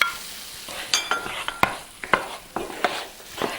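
Skinned, small-chopped tomatoes tip into a frying pan, a series of sharp wet clatters and spoon scrapes over a steady close sizzle, no voices.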